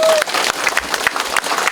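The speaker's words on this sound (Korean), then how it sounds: "박수 한번 주세요" An audience at a citizens' town-hall meeting in Chaeun-myeon, Nonsan, gives the mayor a brief round of close, dense applause, with a voice faintly audible at the start.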